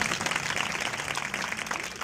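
Applause from a church audience after a Christian devotional song performance, a steady dense patter of clapping filling the whole moment at moderate distance with no voices.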